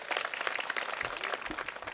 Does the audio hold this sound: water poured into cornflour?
no